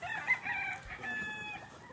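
Chickens crowing faintly in the distance at a poultry breeding farm in Bicol, Philippines, drawn-out calls over a steady outdoor background hiss.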